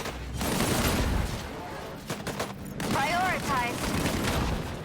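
Rapid bursts of gunfire in the shooter game DisIntegration, sustained volleys crackling at moderate loudness with a brief lull in the middle, mixed with synthetic whirring and electronic warbling effects.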